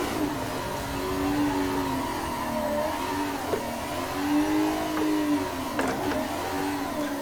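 Chevrolet Corvette drifting in the Assetto Corsa racing game, a steady simulated engine drone that rises and falls with throttle changes, with tyre squeal swells through decreasing-radius corners, continuous and fairly loud with no talk.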